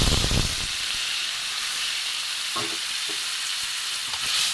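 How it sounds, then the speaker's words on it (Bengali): Water goes into a pan of sizzling, spice-fried potato and pointed gourd curry, giving a loud, steady hiss of steam and frying with a few soft clinks of stirring. "মশলা দিয়ে কষানো হয়ে গেছে, এবার আমি জল দিয়ে দেবো।"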